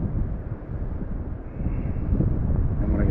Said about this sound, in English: This wind kind of switched on me.